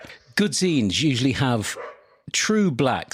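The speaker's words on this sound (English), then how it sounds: "Sorry about the dog barking in the background." A neighbour's dog barks a few times in the background, softer and farther off, while a person talks close and clearly over it.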